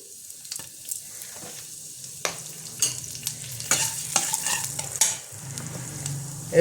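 Black cumin seeds and a pinch of asafoetida crackle in hot oil in a heated kadai, a close sizzle that swells and fades with scattered sharp pops and stirring scrapes, no voices.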